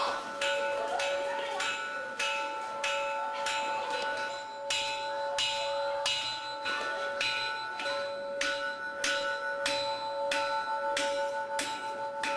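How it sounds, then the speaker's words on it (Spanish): A school bell rings insistently in a steady rapid series of evenly spaced metallic strokes, sustained tones lingering between hits, continuing unbroken for the whole stretch with no voices. "La señal inequívoca era la campana"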